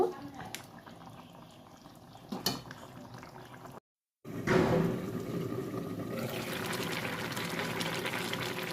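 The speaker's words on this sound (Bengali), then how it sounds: "বেগুন তো আগেই ভেজে নিয়েছি এবার একটু ফুটিয়ে নেব" An eggplant and bean curry boils in a pot, starting as quiet kitchen clatter with a couple of knocks, then after a brief gap a steady, close bubbling simmer fills the rest.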